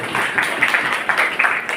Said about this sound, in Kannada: ಈ ಪ್ರಯತ್ನಕ್ಕೆ ಅವರಿಗಾಗಿ ಒಂದು ಚಪ್ಪಾಳೆಯನ್ನು ನಾವು ಹೇಳಲೇಬೇಕು